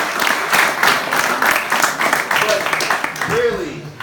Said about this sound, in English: so clap it up for them.